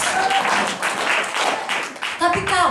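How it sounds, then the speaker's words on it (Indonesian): Applause and clapping from a church seminar audience in Yogyakarta break out briefly amid a preacher's voice, the crowd's clapping rising under and between spoken words. "berikan tepuk tangan bagi Tuhan Yesus"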